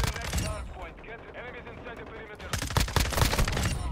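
Hurricane SMG fire in Modern Warfare 2, rapid full-auto bursts crackling loud and close, broken by a short lull before another dense burst, with game sounds and a voice mixed in.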